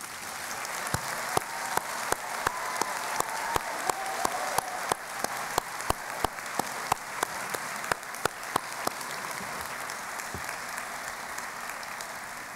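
Audience at a 2019 graduate convocation applauds the graduate students, a steady wash of clapping with sharp individual claps popping out near the front, loud and sustained for about twelve seconds with no talking.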